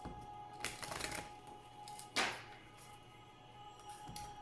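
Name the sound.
shuffling oracle cards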